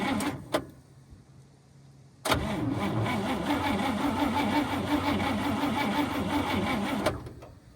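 A 1954 Cadillac engine, probably flooded, cranks with a rhythmic, labored starter churn for about five seconds before stopping. A couple of sharp clicks come first, and the engine never catches.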